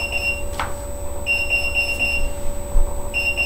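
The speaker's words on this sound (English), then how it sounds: "That's the fire alarm." A smoke alarm emits a shrill, high-pitched beeping in repeated short bursts, loud and close, over a low background rumble.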